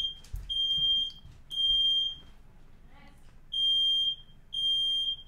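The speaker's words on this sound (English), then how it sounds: "now we have the fire alarm on" A smoke alarm going off indoors, sounding four long, piercing, high-pitched beeps separated by short gaps, loud and repetitive over a faint low background.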